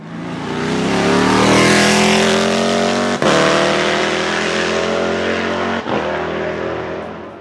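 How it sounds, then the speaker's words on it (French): A loud, deep 7-litre V8 race car engine roars steadily at high revs, with two brief dips like quick gear shifts. "Et puis le bruit. V8 7 litres. Un bruit un petit peu différent de la Corvette."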